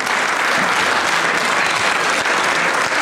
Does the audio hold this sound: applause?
yes